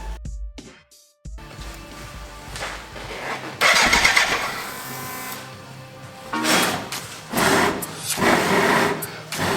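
A BMW K100 cafe racer motorcycle, running rich with excess fuel, cranks and catches, its engine surging in loud bursts that rise and fall close by after a quiet start.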